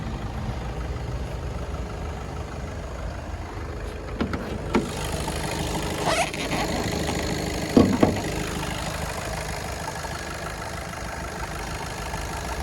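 A Skoda Octavia A7 engine idles steadily with a low, even hum, while a few brief clicks and knocks sound near the middle.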